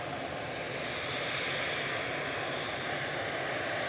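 An easyJet Airbus A320 departing Manchester Airport for Geneva produces a loud, dense engine roar that stays constant through the few seconds, without voices.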